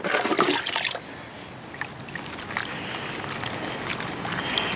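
Water sloshes and trickles in a gold pan full of black sand being cleaned up, a splashy swirl at first that settles into softer dribbles and small drips, close and alone.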